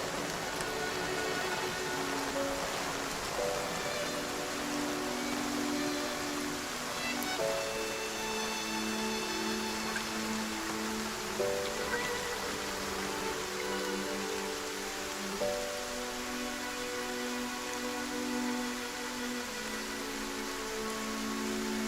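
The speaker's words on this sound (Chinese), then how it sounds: "下雨了" Steady rain falls in a dense, continuous hiss with a sustained musical score playing over it, no speech present throughout.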